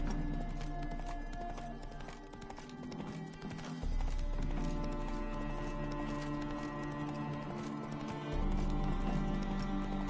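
The horse Roach clip-clops along in The Witcher 3, steady rhythmic hoofbeats close by with a constant game-world ambience underneath and no talking.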